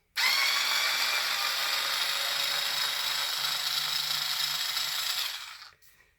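Powered hex driver loosening screws on the rear bulkhead of an E-Revo 2.0 RC truck: one continuous close whirring, ratcheting buzz of several seconds that then winds down and stops.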